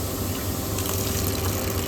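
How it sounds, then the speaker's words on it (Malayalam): Hot water gushes steadily from an opened tap, a close, continuous hiss and splash that holds at an even level with no voices. "നമ്മൾ കുറച്ച് വെള്ളം തുറന്നു വിട്ടപ്പോഴത്തേക്ക് നല്ല ചൂട് തിളച്ച വെള്ളം വരുന്നുണ്ട് കേട്ടോ"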